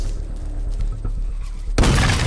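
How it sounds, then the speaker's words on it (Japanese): A firecracker bursts in the zombie horror game Into the Dead 2, a sudden loud boom with a crackling blast that cuts in near the end after a low rumbling background. "爆竹"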